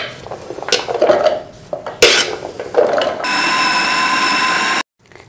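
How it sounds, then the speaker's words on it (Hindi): An electric grinder chops and grinds fresh ginger: loud clattering bursts, then a steady, high motor whine that holds for over a second before cutting off abruptly. "इसको मशीन में बारीक पीसना है।"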